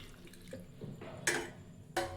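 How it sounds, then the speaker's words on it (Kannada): Rinse water from a grinder jar that held ground masala is poured into a cooking pot for a Kannada-style honagone greens bassaru, heard as brief close splashes and drips with two sharper pours near the end. "ಇವಾಗ ಜಾರನ್ನ ತೊಳೆದು ಅದೇ ನೀರು ಹಾಕ್ತಿದ್ದೀನಿ."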